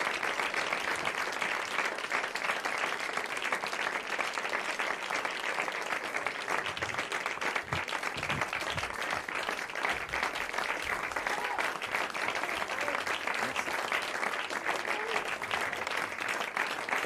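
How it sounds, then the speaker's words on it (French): Audience applause filling the hall after a French stage show, steady and dense throughout with no break, a large crowd clapping continuously at close range. "j'aimerais que vos applaudissements aillent aussi à mon ami François Rollin"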